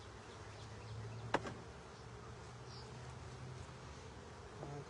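Honey bees drone steadily around an opened hive during a spring inspection, a soft, continuous buzzing with one sharp knock partway through and no talking.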